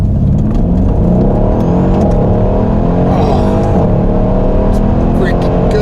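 A 2014 Mercedes AMG E63S 4MATIC accelerating hard, a loud, continuous engine roar rising in pitch from inside the car, with voices talking over it.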